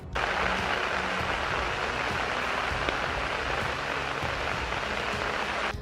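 Heavy rain pours down steadily across Karnataka, a dense, unbroken hiss of downpour that stays constant and fairly loud for several seconds with no voices.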